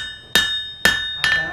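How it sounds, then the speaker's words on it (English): A hammer strikes a knife blade three times to straighten it during frontier-style knife making, each blow a sharp ringing metallic clang with a lingering tone, close and loud. "I'm going to hammer it here and here."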